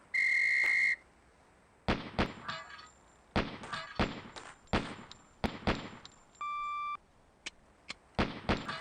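A short, loud, steady electronic-style whistle blast opens a shooting drill in the SWAT police game Police Quest SWAT, followed by a string of sharp gunshots and metallic clanks from falling steel targets, with a brief beep tone partway through.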